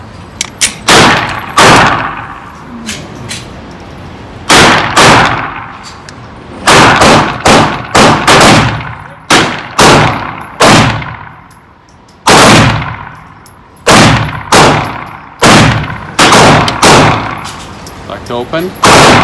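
Glock 48 pistol fired loud and close with a Shield Arms S-15 magazine, single sharp shots in quick bursts of two to five separated by pauses, each followed by a short ringing tail.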